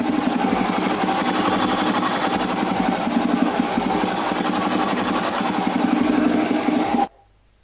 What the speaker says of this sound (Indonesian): inilah suara dari mesin setelah mesin dia di setel klepnya